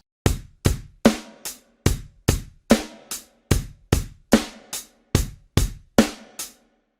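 Finger-drummed groove on pads: closed hi-hat eighth notes with snare on beats two and four and kick underneath, played as a steady, evenly spaced pattern of crisp hits for about seven seconds, close and alone.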